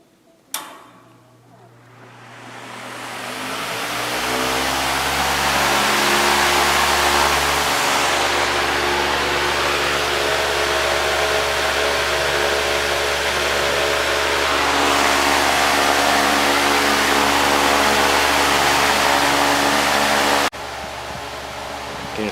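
A Patton electric fan rated around 2.7 amps is switched to high: a click, then a rising motor hum settling into a steady, loud whoosh of moving air with a low drone underneath.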